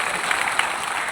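An audience claps at a public gathering where a speaker honours young children, making a short, dense burst of steady applause.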